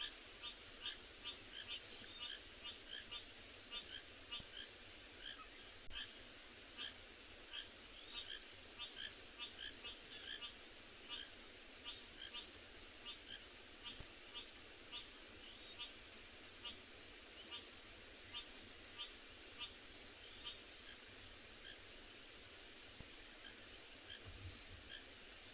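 Rain frogs call in the South African bush, a faint chorus of rapid, repeating high chirps that pulses steadily over a soft constant background hum.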